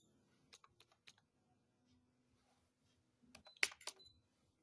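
Typing on a computer keyboard to enter a project name in ProtaStructure 2021 software: a few soft, isolated key clicks, then a brief quick cluster of louder taps near the end, otherwise quiet.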